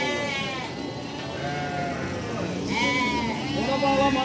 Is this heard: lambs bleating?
yes